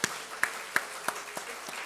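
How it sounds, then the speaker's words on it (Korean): A church congregation claps in a short round of applause, with several distinct sharp bursts spaced about a third of a second apart, fairly quiet and without talk. "제가 소개하면 열화와 같은 박수."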